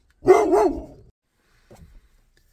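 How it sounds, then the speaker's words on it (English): A dog gives a loud double bark close by, followed after a pause by a faint, short huff or low woof, with silence around it. "my dogs were losing it for a bit"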